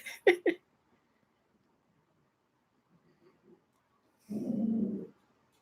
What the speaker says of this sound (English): he has to let you all know he's here by barking